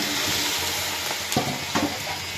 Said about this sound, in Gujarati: હવે વઘાર નાખશું આપણે